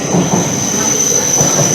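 An eight-coach passenger train rumbles along with a high, sustained wheel squeal ringing over the steady rolling noise, loud and close.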